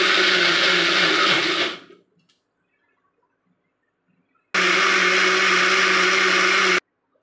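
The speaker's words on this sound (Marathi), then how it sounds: "मिक्सरमध्ये मी हे सगळं बारीक करून घेतलं" A kitchen mixer grinder blends fried onion, tomato, green chilies and cashews into masala, with a loud motor whir that cuts off, a pause of silence, then a second burst that ends abruptly.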